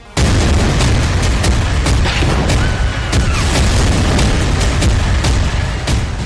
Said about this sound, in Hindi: जब हाइफा में रॉकेट फट रहे थे तब बेरूत में भी बारूदी धमाके से धरती थर्रा रही थी